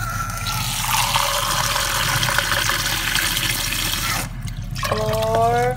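Water poured into long grain rice for cooking at home, a steady splashing pour close by that stops abruptly, followed by a brief tonal ringing.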